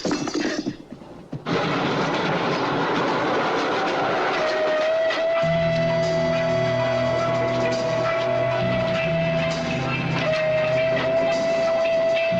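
A steam train rumbles and clatters steadily while a long, sustained whistle sounds for several seconds, briefly breaking before resuming, with a low droning horn underneath.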